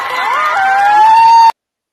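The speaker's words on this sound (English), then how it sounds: "And the crowd cheers." A crowd cheers and shouts at a funeral for a nine-year-old boy in Iran, a loud massed roar of voices with a rising whistle or shrill cry held over it before an abrupt cutoff.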